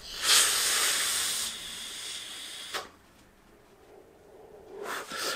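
A puff drawn from a vape, heard up close as a loud airy hiss that fades after about a second and a half, followed by a sharp click, a quiet pause and a softer breathy exhale.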